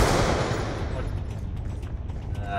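Rapid gunfire from a weapon in the video game Call of Duty Black Ops II, a loud continuous volley of shots that slowly eases off slightly over a couple of seconds.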